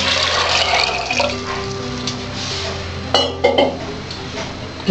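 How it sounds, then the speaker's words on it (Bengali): About a litre of water poured into a pressure cooker holding two large potatoes, with a steady pouring wash and a few metallic clinks of the pot near the end, close up with no talk. "এক লিটারের মতো জল দেওয়া,"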